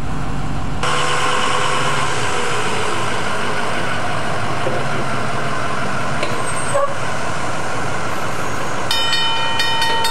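Steady rumbling of a train rolling on rails, continuous and fairly loud, with a brief high whistle-like tone partway through.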